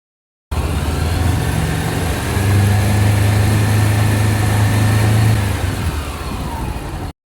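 Honda CB500X motorcycle engine accelerating in second gear, a close, steady low rumble that swells smoothly in the middle and then eases off, heard alone.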